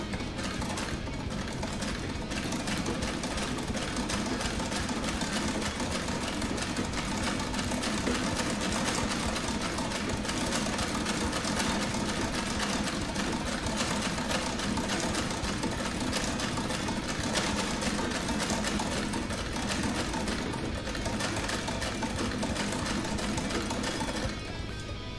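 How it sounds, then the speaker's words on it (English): A 1910 treadle sewing machine runs steadily while jeans are sewn, giving a continuous, even mechanical whir and rattle at constant loudness for the whole stretch, with no voices over it. "Our treadle going here."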